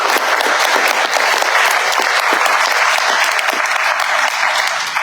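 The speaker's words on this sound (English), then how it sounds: "Let's give them a big round of applause." Sustained, dense applause from a large audience honoring healthcare workers at a Silicon Valley health care event, steady and loud throughout with no voices standing out.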